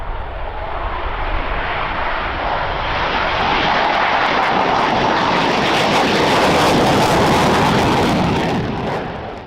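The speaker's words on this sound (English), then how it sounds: "As the fighter jet hurtles toward the sky at supersonic speeds" A fighter jet flying at high speed, a loud continuous roar that swells gradually and holds steady for several seconds before easing slightly, with no voices.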